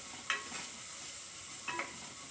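Tomato soup ingredients sauteing in a pan make a faint, steady frying hiss, with a few soft stirring scrapes against the pan.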